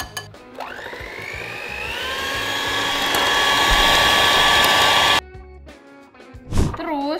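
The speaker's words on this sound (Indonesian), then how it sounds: "Coba kita aduk pakai mixer ya." An electric hand mixer whips dalgona coffee, its motor whine rising in pitch and holding loud and steady for about five seconds before stopping, followed by brief rustling and a short vocal sound.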